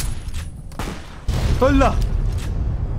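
An explosion in the game Fallout New Vegas, set in Area 51: a loud, broad blast that jumps up around midway and rumbles on, with a man exclaiming over it and a short burst of crackling debris.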